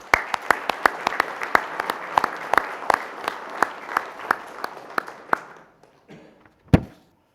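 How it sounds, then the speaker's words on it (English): A small city council meeting audience applauds a retiring police communications employee with sparse, distinct hand claps. The claps are close and fairly loud, thin out toward the end, and one last clap comes after a pause. "Let's give him a round of applause"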